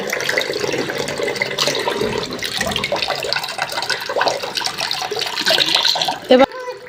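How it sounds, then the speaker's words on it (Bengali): A child rinses their mouth and splashes water on their face after brushing their teeth. Water runs and splashes continuously at close range, with some speech mixed in, then stops abruptly near the end. "আচ্ছা ধুয়ে ফেললাম মুখ"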